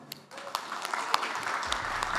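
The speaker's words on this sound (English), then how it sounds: "let's give a round of applause to Vasiliy." A conference audience applauds a speaker being introduced, a short, fairly faint burst of clapping that builds over about two seconds.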